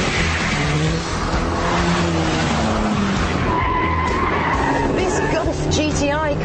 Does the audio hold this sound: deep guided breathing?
no